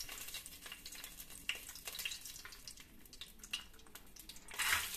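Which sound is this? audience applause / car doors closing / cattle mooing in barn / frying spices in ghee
frying spices in ghee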